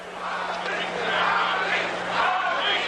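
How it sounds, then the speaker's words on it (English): A boxing arena crowd at a Muhammad Ali versus Larry Holmes fight chants Ali's name in rising and falling waves, a broad, distant roar of many voices that carries steadily throughout. "They're chanting Ali, Ali, Ali."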